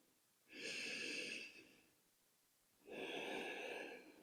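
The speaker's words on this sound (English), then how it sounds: "Taking one more nice deep breath here." Two slow, deep breaths taken during a beginner restorative yoga session, each a soft airy inhale-exhale lasting about a second, close and quiet with a pause between them.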